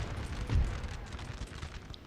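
Cannon fire in Napoleon: Total War, a single deep boom partway through over a steady rumbling battlefield din, muffled rather than sharp.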